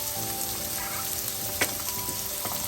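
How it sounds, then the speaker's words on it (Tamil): Chopped snake gourd tipped into a hot pan of oil for Sri Lankan-style sambar, setting off a steady loud sizzle and crackle with a brief stirring scrape, no voices. "அடுத்ததாக இந்த பைத்தங்காயை சேர்ப்போம்"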